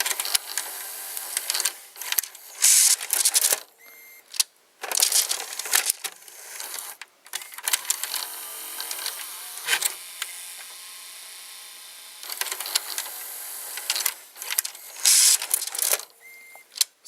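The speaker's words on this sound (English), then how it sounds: "So now a view of the loading motor." A 1990 Mitsubishi HS-U82 S-VHS VCR runs its loading motor and tape mechanism, giving close whirring, clicking and grinding bursts that start and stop with short quiet gaps between them.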